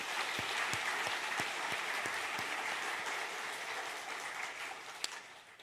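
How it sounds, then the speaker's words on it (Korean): A church congregation at a Sunday worship service applauds, a dense, even wash of clapping with a few sharper claps standing out early, slowly tapering over several seconds. "수고하신 모든 분들에게 우리 힘찬 격려의 박수 보내겠습니다."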